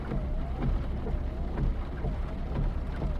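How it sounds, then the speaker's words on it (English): Heavy rain in the video game Final Fantasy VII, a dense steady patter with low rumbling underneath, continuous and fairly loud, with no talking. "Sure is raining hard."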